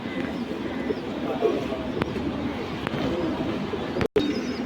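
Pigeons kept in a loft in Mumbai coo softly in a low, continuous murmur, with a couple of faint clicks and a brief dropout near the end.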